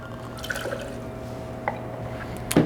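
Cointreau orange liqueur poured into a glass for a margarita makes a brief, faint trickle with a few light drips, close by in a quiet kitchen.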